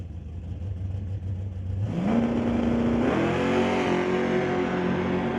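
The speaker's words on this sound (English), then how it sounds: "Nitrous assisted 632 big block Chevy power." A nitrous-assisted 632 big block Chevy door-slammer drag car at a street legal drag racing event, its engine revving at moderate distance, pitch stepping up sharply twice into a sustained high, steady drone.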